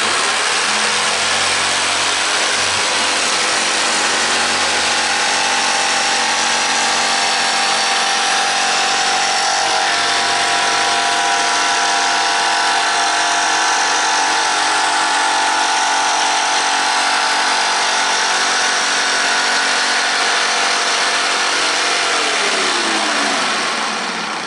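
Power saw cutting laminate trim while finishing the floor ends, a steady continuous whine running for the full length, loud and close with a slight pitch shift near the end.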